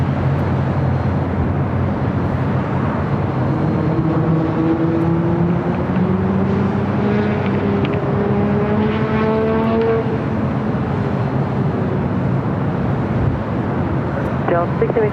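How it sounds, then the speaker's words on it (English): A Boeing 777 freighter passes overhead at LAX near the H Hotel, a loud steady jet roar filling the whole stretch, with whining engine tones climbing and sweeping as it goes by. "777 freighter passing above us here at the H Hotel, heading to the south side"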